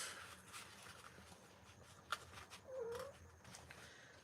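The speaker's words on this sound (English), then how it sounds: "you hear the kitty cat?" Indoor cat giving one drawn-out, quiet meow partway through, faint over a low background hum and small handling noises.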